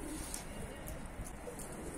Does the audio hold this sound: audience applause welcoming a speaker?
no